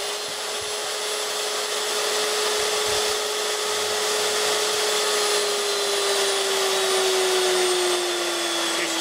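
A high-torque cake mixer motor powered from a charged capacitor bank runs with a loud, steady whirring whine and a sustained electric hum that drifts slightly lower in pitch, with no talking.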